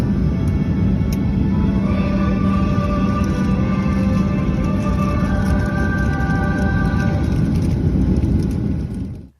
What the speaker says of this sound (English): That's the sound of my first plane trip of the year.